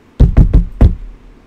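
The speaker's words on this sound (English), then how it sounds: "knocking on some wood there." Four loud knocks on wood, close and sharp, in an uneven rhythm, followed by quiet with nothing else heard.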